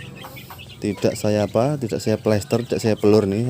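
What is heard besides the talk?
chickens clucking in a sand-floored coop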